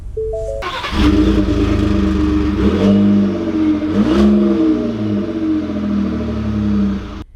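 A 2020 Ford F-150 Platinum pickup truck pulls away, its engine note rising steadily after a brief start, loud and close with a sustained drone through the end.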